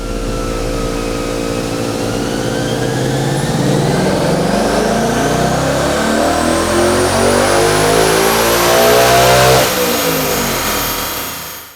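A 2024 Ford Mustang V8 revs hard on a dyno, loud and close, rising steadily in pitch through the gears for about ten seconds before backing off.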